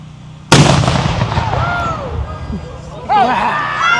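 Historical cannon fired at a living history demonstration at Adena Mansion in Ohio: one sudden, very loud boom with a long rumbling decay, followed by excited voices and exclamations from the nearby crowd.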